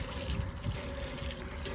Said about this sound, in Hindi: तो फाइनली हमारा चपाकल का काम हो गया और यहाँ देख सकते हैं पानी तो निकल रहा है